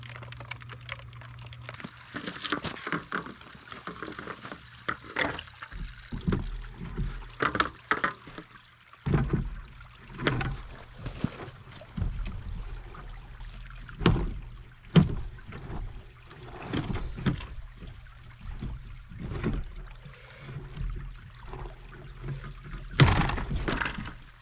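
Chunks of ice rattle and clatter inside a pulled-apart part in quick, irregular bursts of clicking, close and fairly faint, over a low background hum.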